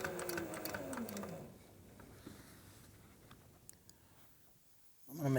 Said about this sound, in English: And I'm going to sew a few more stitches.